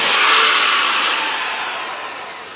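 Core drill bit cutting into glass fiber reinforced concrete, lightly wetted for dust: a close, steady high-pitched grinding hiss that slowly fades over a few seconds.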